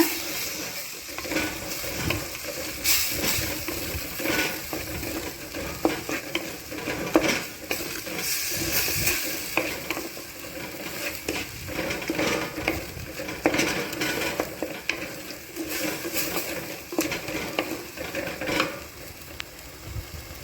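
Quail gravy ingredients being stirred and sautéed with salt in a pan, a steady close sizzle broken by frequent scraping and clinking of a utensil against the metal, continuing without talk throughout.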